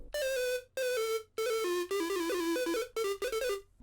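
A bright lead synth preset from a default leads pack, used in a new wave beat, plays a melodic line in separate phrases with brief gaps, each note sustained and pitch-stepping, loud and clean with no voices.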